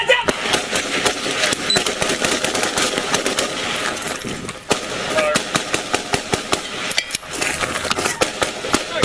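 Gunfire in a police officer-involved shooting in Pasco: a dense run of sharp, loud shots cracks out in rapid irregular bursts over a noisy background and continues across the whole stretch.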